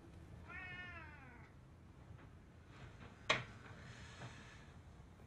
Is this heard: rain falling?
no